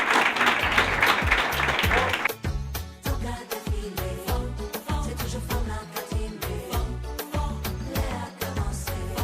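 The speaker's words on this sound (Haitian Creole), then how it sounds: "M'a demandé un gros applaudissement pour lui." Audience applause at an International Women's Day event in Haiti, dense clapping at first, then giving way to loud rhythmic music with a heavy beat that continues to the end.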